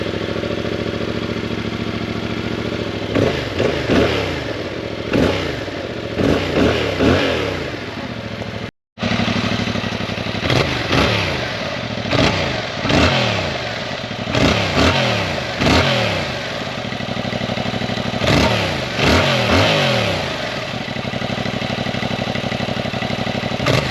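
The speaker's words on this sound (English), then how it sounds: "Right, it's time for us to get it started." A Yamaha XSR700 motorcycle engine idles close up with a steady throb, interrupted by repeated sharp throttle blips that rev up and fall back, several bursts in a row, cut by a brief silent gap.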